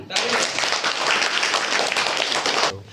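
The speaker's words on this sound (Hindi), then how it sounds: "चलिए जोरदार ताली।" Schoolchildren in a classroom burst into loud, dense clapping that runs steadily for nearly three seconds, then cuts off abruptly, with some voices mixed in.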